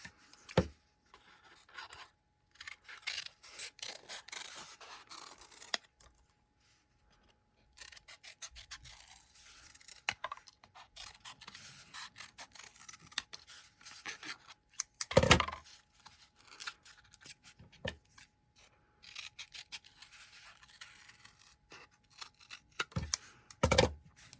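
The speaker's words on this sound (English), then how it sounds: "now I'm going to cut them in a curve shape" Scissors cut a cardboard roll into curved petal shapes, giving close, faint snips and scraping rasps in uneven bursts separated by quiet pauses, with a louder crunch midway. There is no talking.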